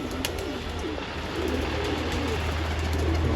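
Pigeons coo softly in low, rolling phrases beneath a constant outdoor hiss, several calls overlapping at moderate distance.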